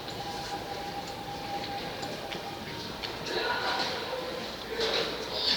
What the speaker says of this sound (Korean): 지금 또 지하철 들어오고 있네요.